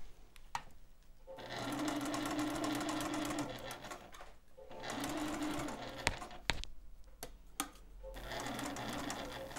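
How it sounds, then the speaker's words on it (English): A sewing machine stitches around the perimeter of a zipper pouch in three steady runs of fast mechanical whirring, with brief pauses and small clicks between them. "we're going to sew all around the perimeter"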